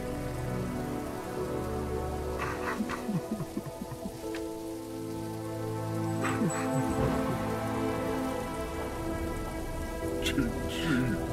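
Steady rain patters in the video game There Is No Game, a falling shower of zeros and ones, continuous and close, with a low musical drone underneath and a few brief voice fragments.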